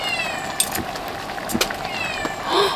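Cat at a snowy winter campsite in Daegwallyeong, meowing several times in wavering calls spread across the stretch, moderately near, with scattered knocks and rustles between.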